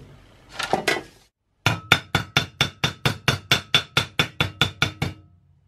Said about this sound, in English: So I'll planish this out and we'll see where we are.